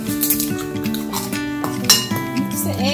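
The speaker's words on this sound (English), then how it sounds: "mix the eggs with the buttermilk" Eggs and sweet buttermilk being mixed in a bowl, quick repeated clinks of a utensil against the dish, with a person talking over them.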